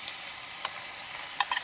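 Smoked sausage and fried vegetables stirred in a pot, a soft steady sizzle with a few brief scraping clicks of the spoon, fairly quiet and without voices.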